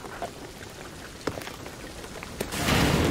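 Steady rain in the video game Shadow of the Tomb Raider, a continuous hiss with a few sharp drop impacts, swelling louder and heavier near the end.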